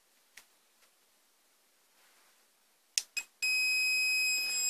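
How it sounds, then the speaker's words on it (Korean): A caravan control panel buzzer, set for a switch test on a LUNAR EC370 unit, gives a steady continuous beep that starts abruptly and holds while the switch is pressed, preceded by a few faint clicks. "누르면은 삐 소리가 계속 나는 거고요"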